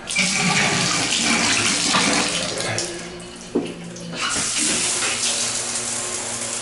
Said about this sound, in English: you can see you get a nice spray, nice good shower, and nice drainage